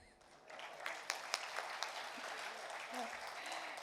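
An audience at a university tech competition event claps steadily in a soft, dense patter with a few sharper individual claps, fairly distant and continuing under faint background voices.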